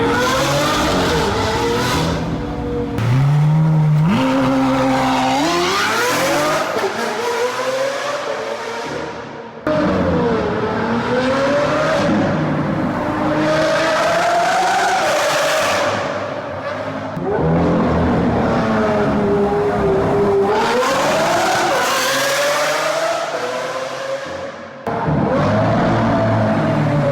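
Rebuilt Lamborghini Aventador V12 revving hard near a bridge, loud and close, with repeated rising and falling sweeps as it accelerates through gears, sustained for nearly half a minute with brief lifts between pulls.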